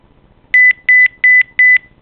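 A device beeps as it approaches a metal object, four crisp, loud electronic beeps evenly spaced about a third of a second apart, following a quiet lead-in.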